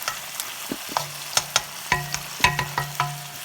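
Thai fish cakes stir-fry in a large wok with a low sizzle, broken by sharp, irregular clacks and scrapes of a spatula against the metal, close and clear with no talking.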